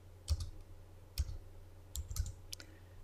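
An amount being typed on a computer keyboard into bookkeeping software, with a few quiet, sparse key clicks spread out, some coming in quick pairs.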